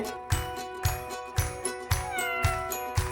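Bengal cat meows repeat at a steady beat over a sustained musical tone, each call short and clear, with no voices.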